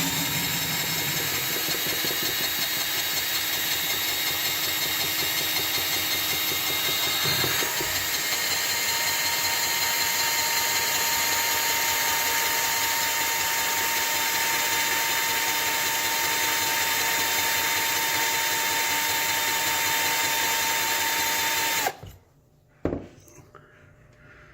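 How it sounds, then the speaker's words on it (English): A power drill fitted with a 3/16 bit, set to high torque at medium speed, bores steadily into an American Lock Series 30 padlock, a continuous loud whine holding for about twenty seconds before cutting out abruptly. "What I generally use is a 3/16 drill bit, and I go on my high torque setting at a medium speed"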